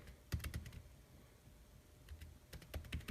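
Quick bursts of keystrokes on a computer keyboard, entered as commands during an iPhone 5 SSH ramdisk session; two clusters of clicky taps with a quiet pause between, close and fairly soft, with no talking.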